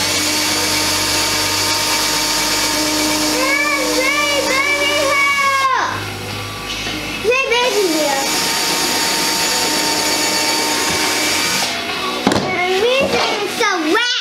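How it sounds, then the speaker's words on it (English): A power drill boring pilot holes in wood for a firework display rack, a loud steady whine that ramps up and down in several bursts, while a child and an adult talk over it. "the first thing I like to do is I like to drill"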